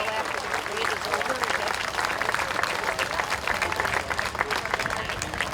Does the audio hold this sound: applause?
yes